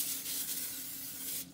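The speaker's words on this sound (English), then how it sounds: "Then you're going to take some cooking spray" Cooking spray hissing from a can into a foil-lined 13 by 9 by 2 baking dish, one continuous close spray lasting about a second and a half before cutting off.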